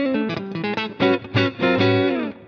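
Telecaster electric guitar through a 1950s-style overwound pickup, playing a short run of bright, steely notes and chords that ring out loudly on their own and fade at the end.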